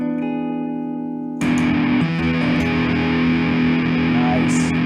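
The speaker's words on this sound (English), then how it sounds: "this is a distortion and tone at noon." Electric guitar through a Wren and Cuff distortion pedal with the tone knob at noon: a held, buzzing note gives way to a thick, loud strummed chord that sustains to the end.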